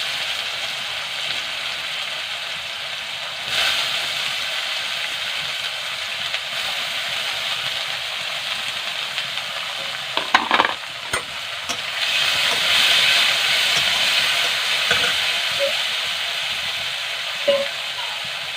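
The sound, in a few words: chopped onions frying in oil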